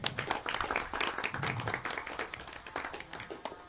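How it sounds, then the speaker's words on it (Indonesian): Audience applause for a speaker who has just given a talk at a formal gathering, steady dense clapping from many hands sustained throughout at moderate volume. "mari kita berikan aplaus buat Bapak ini"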